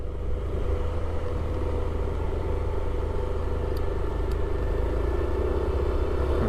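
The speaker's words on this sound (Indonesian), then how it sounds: "Ada mobil nih apa truk nggak kuat mau menanjak teman-teman" A truck labors slowly uphill on a forest road in a Roblox game, its engine giving a steady, loud, strained rumble that holds without break, with no talking over it.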